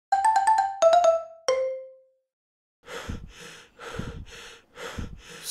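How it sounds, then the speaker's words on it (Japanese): In a video game, a short chiming ringtone-like melody plays first, then after a pause comes heavy breathing, several loud, rough, close breaths and snorts in a slow rhythm. "すんごい息遣いが聞こえるんですけれども。"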